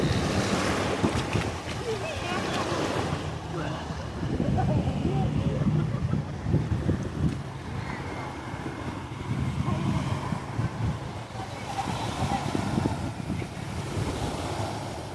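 Surf and wind at Port Beach, Melbourne, a steady broad wash of waves with gusty wind noise buffeting the microphone throughout, no clear voices.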